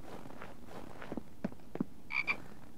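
A frog croaks outdoors in winter, several short low croaks spaced irregularly over a few seconds, then a brighter double call near the end, moderately close against a quiet background with no talk.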